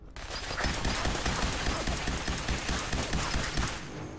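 A Fallout 4 chain gun fires in one continuous, rapid stream of dense, evenly paced shots that hold steady, loud and near, for about four seconds before cutting off.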